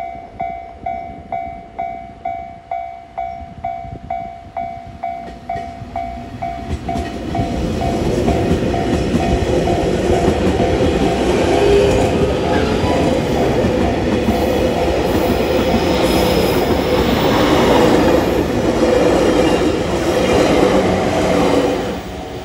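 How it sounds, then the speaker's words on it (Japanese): Local train at Chikugo-Funagoya station in Japan. A regular ticking signal is heard first, then a loud, close rumble and clatter of rail cars swells and continues. "今電車が止まっているのが在来線の方の筑後船小屋駅ということですね。"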